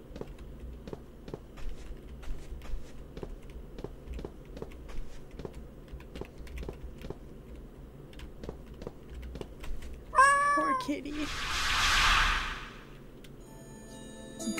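A cat in the video game Misao gives a short series of rising meows, then a longer breathy cry, clear above a ticking, clock-like beat that runs the whole time.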